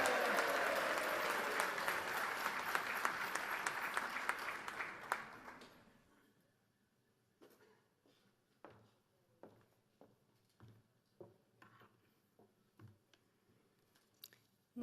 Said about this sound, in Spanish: La recibimos también con un fuerte aplauso